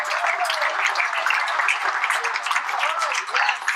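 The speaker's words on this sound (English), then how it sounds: "please give a big round of applause for Rosalind McFarland" A crowd keeps applauding Rosalind McFarland at a Disability Awareness Month gathering. Sustained, fairly loud clapping runs throughout, mixed with scattered cheering voices.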